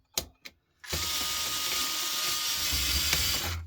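A ratchet tool clicks steadily and continuously while removing screws during a device teardown, preceded by two brief separate knocks, close and fairly loud.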